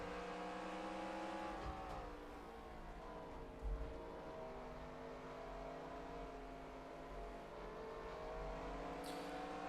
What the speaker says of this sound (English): Some cars are starting to come down the pits now.